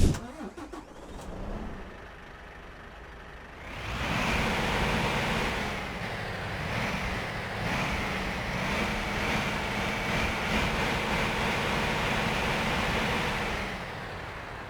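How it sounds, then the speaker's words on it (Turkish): Volvo FH series truck with a 780 horsepower engine, heard from outside, a low diesel rumble that rises after a few seconds into a steady, moderately loud drone before easing at the end. "Ben motoru bir de dışarıdan şey yapayım dinlettireyim."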